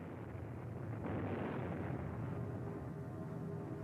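B-52 bombing of Hanoi during the December 1972 Christmas bombings: a low, rumbling roar of distant explosions that swells after the first second and rolls on continuously, fairly faint.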